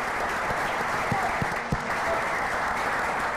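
Steady, subdued crowd applause at a Philadelphia symposium, a polite golf clap with dense even clapping and a few sharper claps standing out, continuing throughout.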